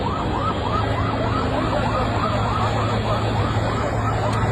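A fire engine siren wails in fast repeating cycles, loud and steady, over the rumble of traffic, during a major fire at Shahjalal International Airport.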